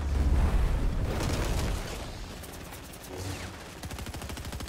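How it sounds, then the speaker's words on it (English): Gunfire in the Fortnite video game, a dense burst of loud shots at the start that thins into scattered rapid volleys and clicking game sounds, with no talk. "Oh, you're shooting at somebody."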